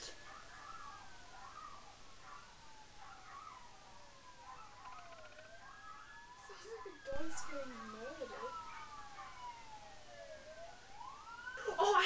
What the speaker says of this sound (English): Also, if you hear the sirens outside.